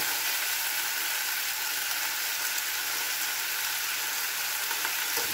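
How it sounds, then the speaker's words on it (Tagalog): Chicken pieces for chicken mechado fry in hot oil, giving a dense, even, loud sizzle that holds without a break. "So, iprito muna natin ito hanggat magluto siya."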